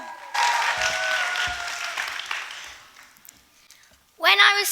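Audience at a youth poetry slam final breaking into loud applause that swells, then gradually thins and fades out before a voice begins speaking.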